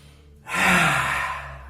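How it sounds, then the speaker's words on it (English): One long, forceful breath out through an open mouth with the tongue stuck out, the yogic lion's breath, comes after a short quiet pause and fades gradually. It sounds close, breathy and alone. "we're going to inhale through the nose and we're going to exhale through the mouth whilst sticking our tongue out, trying to touch our lower chin"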